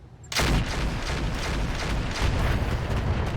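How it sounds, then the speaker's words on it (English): A rotary AC-5 autocannon fires in RogueTech as a sudden, loud burst that turns into a continuous roaring barrage of rapid shots and impacts. It starts abruptly and stays dense and heavy throughout. "Unless we do want to fire the rotary AC-5."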